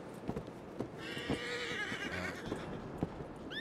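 A horse whinnies loudly at close range for about two seconds amid intermittent hoof clip-clops and stamping, with a short, sharp high squeal near the end.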